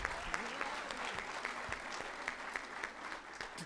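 A crowd at a national orders ceremony applauds a teacher, a steady, fairly distant wash of clapping with some sharper individual claps standing out, with a faint voice underneath.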